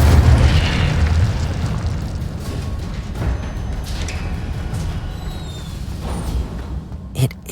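An Incendio fire spell blast in a Hogwarts-themed game gives a loud booming burst that settles into a sustained roaring, crackling rumble, with a few sharp pops near the end.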